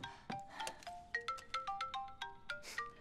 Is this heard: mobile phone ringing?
yes